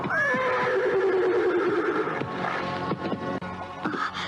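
A horse gives one loud, close whinny that rises and then falls away, followed by a few soft thumps of movement and hooves as it leaps across a river.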